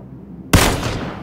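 A sudden loud gunshot burst from the PUBG video game cuts in after a quiet moment. It is followed by a lingering, noisy tail of fire.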